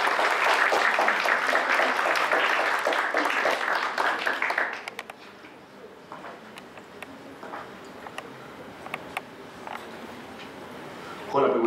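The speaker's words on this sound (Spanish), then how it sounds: "Demos un fuerte aplauso al maestro Luis Enrique" Seminar audience applauds the guest speaker Luis Enrique, loud dense clapping for about five seconds that drops off abruptly, leaving a few scattered claps in a quieter room.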